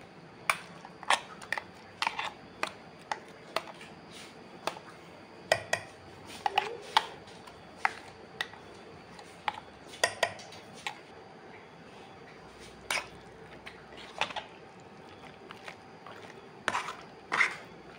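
Masala being mixed into chicken in a pot for Goan chicken vindaloo, with a spoon scraping and knocking against the pot. Quiet, irregular clicks and clinks repeat throughout, with no talk.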